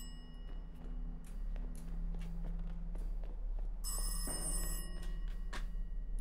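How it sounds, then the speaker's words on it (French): A telephone bell rings in the horror game Welcome to Kowloon, a bright metallic ring bursting in near the end over a low ambient hum with scattered footsteps. "C'est un téléphone ou..."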